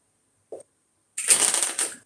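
Playing cards are shuffled up close at a blackjack table: a short flick, a pause, then a rapid riffling burst lasting nearly a second.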